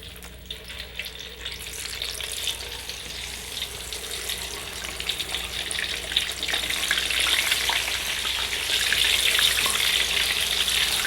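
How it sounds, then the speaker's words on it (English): Dried tofu pieces deep-fry in hot oil with a continuous bubbling sizzle that grows louder and denser over the course of the clip, close up and free of speech. "let's deep fry our dried tofu pieces here."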